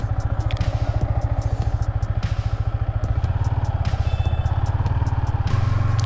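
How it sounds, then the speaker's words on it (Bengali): Engine of a Yamaha MT-15 motorcycle idles close by in a fast, steady pulsing thrum, the exhaust note holding even with slight shifts in pitch and no talking over it. "সো গাইস, আমরা একটু এক্সস্ট নোটটা শুনি বাইকের। Nice exhaust note."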